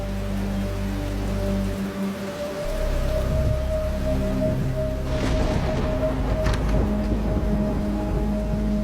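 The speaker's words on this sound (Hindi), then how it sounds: "बिल्लू, इस बारिश में क्या हो गया अभी?" Steady rain at night in a Hindi animated horror cartoon, a constant hiss of falling water running under a low sustained tonal drone, with no voices heard.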